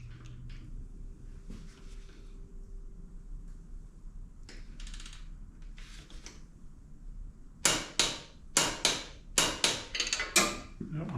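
A torque wrench set to 45 foot-pounds tightening the rear shock bolts on a Harley-Davidson Sportster. Faint handling noises give way to a quick series of about six sharp, close clicks.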